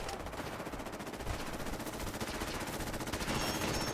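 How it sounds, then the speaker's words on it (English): Rapid automatic gunfire in Fallout 4 rattles on steadily for several seconds, loud and sustained, building slightly toward the end without any voices. "lots of shooting"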